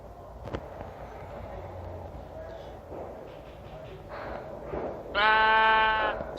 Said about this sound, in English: says the sheep